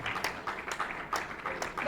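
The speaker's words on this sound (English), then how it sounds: "Please clap for him." Scattered clapping from a small crowd at an academic paper presentation, faint and uneven, with individual claps standing out in a loose rhythm.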